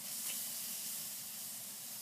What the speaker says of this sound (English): Spray some canola oil on the grill itself.